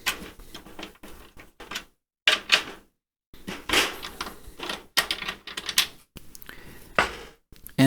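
Snare wires are loosened on a DW snare drum, making a series of close, sharp mechanical clicks and rattles broken up by brief silent pauses, with no talking.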